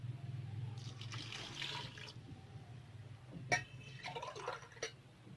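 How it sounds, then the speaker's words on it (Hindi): Two glasses of water are poured into a pot of spiced beef for shami kababs, a soft, fairly quiet splashing and trickling with a couple of sharper splashes near the end, no talking. "ये लें जी, ये 2 गिलास पानी डाला है।"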